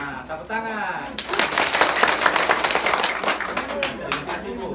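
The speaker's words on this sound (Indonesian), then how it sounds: "tepuk tangan" Applause and clapping from a women's group at a family finance training session, a crowd of hands beating steadily and close by over several seconds after an opening voice.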